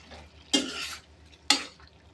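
Two short scraping strokes as masala paste is stirred into pudina pulao in a pan, each lasting about half a second over a faint background.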